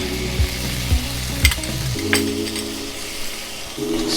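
Onions with a little garlic added sizzle loudly in a frying pan for crispy duck legs. There is a continuous hiss with several sharp stirring scrapes and light clinks of a utensil against the pan, close up and with no speech.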